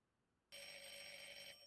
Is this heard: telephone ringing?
yes